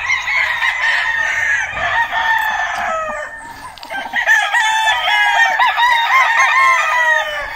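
Fighting roosters crow loudly and close by, long strained cock-a-doodle-doo calls overlapping with bursts of clucking from several birds in a cool upland village yard.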